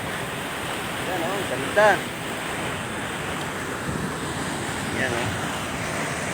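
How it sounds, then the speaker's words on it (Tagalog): Strong current and waves rushing along a beach in Mindoro Oriental, a steady loud wash of surf with wind noise, while a person speaks briefly over it. "Yan, ang lakas oh. Grabe. Lakas ng agos oh."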